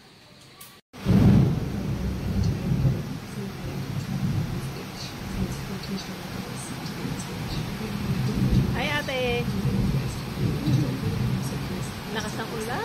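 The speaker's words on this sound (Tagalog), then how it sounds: "Lakas ng ulan!" Heavy rain pours down in a steady dense hiss with low thunder-like rumbling, loud and close throughout, while people talk over it.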